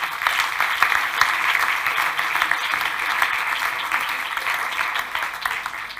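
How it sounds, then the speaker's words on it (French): An audience applauds the jury at an art salon awards ceremony in Montrouge, a steady, dense clapping that holds evenly throughout. "Je vous prie de bien vouloir les applaudir."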